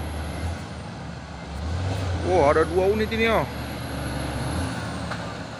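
A truck carrying heavy equipment rumbles nearby, with air brakes, while a person talks excitedly over it; a low steady motor drone persists throughout.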